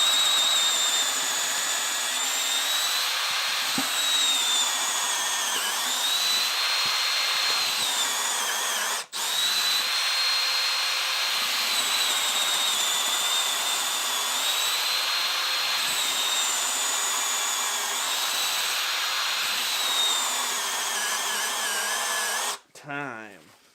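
Cordless Milwaukee drill driver running at speed 1, boring holes in one continuous high-pitched whine for over twenty seconds, with a single brief break near the middle before it winds down at the end.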